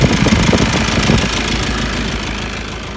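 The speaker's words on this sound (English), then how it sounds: "The cooling fans are working." A car engine with 320K miles, a blocked DPF and overheating problems runs loudly up close, a rough, steady churn with cooling fans whirring alongside and air conditioning switched on.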